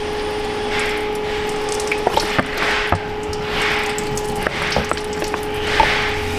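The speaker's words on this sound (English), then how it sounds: "She's blowing bubbles, boys. Oh, that's a big bubble." Air escaping through a cracked exhaust manifold during a smoke test gurgles and hisses in uneven swells, with scattered sharp pops and clicks over a steady mechanical hum.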